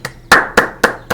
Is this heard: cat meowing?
no